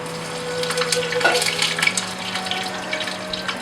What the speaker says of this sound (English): Now you can also add some water.